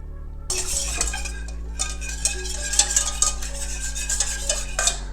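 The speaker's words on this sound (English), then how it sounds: "first you have to whisk everything" Custard ingredients for Boston cream donuts are whisked in a metal pot, giving a close, continuous metallic scraping and clinking with uneven strokes and no voices.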